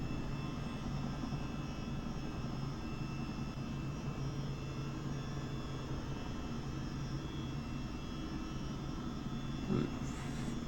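Chinook tandem-rotor helicopter in Microsoft Flight Simulator coming in to land near a runway in stormy, windy weather, a steady loud rotor and engine drone filling the whole stretch with a brief bump near the end.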